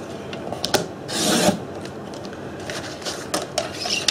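Paper for a small mini album is cut into strips with a trimmer, close dry scraping and slicing strokes in short bursts, one longer rasping pass near the start and quick clicks between, no talking.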